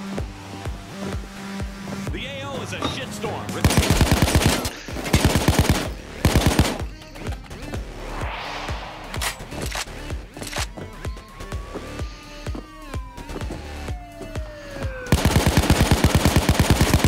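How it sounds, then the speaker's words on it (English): Gunfire in Payday 2 VR, with loud rapid automatic bursts in several separate volleys, interspersed with quieter game noise and ending in another sustained burst. "That was some terrible shooting."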